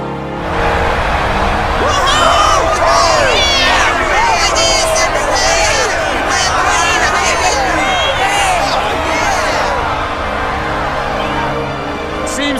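An arena crowd in a fantasy role-playing game roars and cheers in a continuous loud swell of massed voices, with whoops and shouts rising throughout and a faint music bed underneath.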